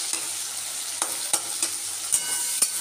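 Chopped onions frying in a little oil in a pan with whole spices, a steady soft sizzle broken by several sharp scraping stirs of a spoon, close and alone with no talk.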